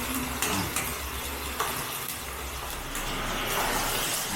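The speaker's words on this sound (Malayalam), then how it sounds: "നീ ഇളക്ക് സിജു, നീ ഇളക്ക്." Ginger and garlic stirred in a hot cooking pan, a soft sizzle with scraping strokes of the spoon at intervals, close and fairly quiet.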